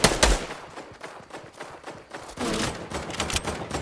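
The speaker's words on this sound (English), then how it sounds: "I'm getting shot from both angles" Rapid bursts of automatic gunfire crackle loudly in Fortnite, dense overlapping shots coming in quick fusillades for a few seconds.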